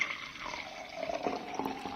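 Beer pours steadily into a glass with a soft, continuous gurgling splash and fizz, fairly quiet and unbroken, with no voices.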